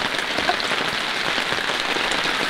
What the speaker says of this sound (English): Basically, this is the centre, and you've got no protection from the rain.